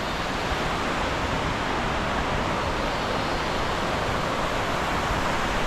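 A rushing stream near La Fortuna waterfall in Costa Rica produces a steady, broad roar of flowing water, loud and close, unbroken with no voices.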